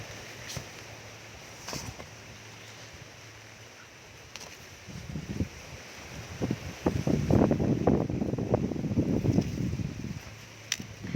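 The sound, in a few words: strong wind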